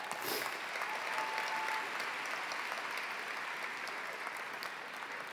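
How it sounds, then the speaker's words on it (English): Steady, sustained applause from a large audience at a high school graduation ceremony, dense clapping that holds at an even level throughout without fading. "Round of applause for that."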